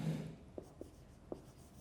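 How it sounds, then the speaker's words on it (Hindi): Chalk or marker taps on a board during a classroom lecture, three short, faint strokes spaced apart in a quiet room with no talk over them. "मैं इनको बल्कि अलग ही लिख देता हूं"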